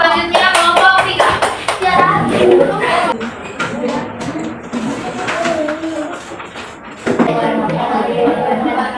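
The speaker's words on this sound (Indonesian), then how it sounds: "Beri tepuk tangan untuk kelompok 2." A classroom group breaks into loud applause, dense rapid hand claps swelling then tapering, followed by a brief lull and a renewed burst, with children's voices mixed in.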